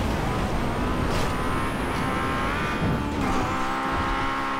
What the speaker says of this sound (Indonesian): Gue dikejar dua mobil nih.